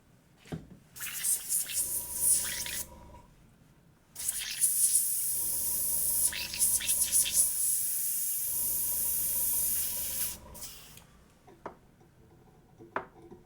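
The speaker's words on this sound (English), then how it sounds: "Alexa, airbrush off." An airbrush hisses in three long bursts of about two to three seconds each, steady and fairly close, with short quiet gaps and a brief tail at the end.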